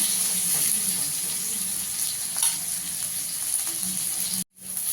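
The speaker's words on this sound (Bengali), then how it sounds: "বেগুনটাকে একটু লাল করে ভেজে নেব" A large brinjal frying in oil, a continuous close sizzle with light crackles and faint scraping, cutting out abruptly for a moment near the end before resuming.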